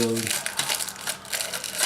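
Close crinkling and rustling of a plastic bag holding a small camping stove, continuous and fairly loud, following a brief voice at the start.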